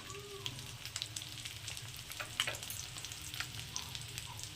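Eggs frying on a tawa, a continuous crackling sizzle with small pops and spatters, close and fairly quiet, no talking.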